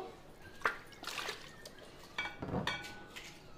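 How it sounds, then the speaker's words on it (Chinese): Pork ribs go into cold water in a cooking pot, making soft splashes, sloshing and a few light clinks against the pot. The sounds are quiet, scattered and close. "排骨冷水下锅"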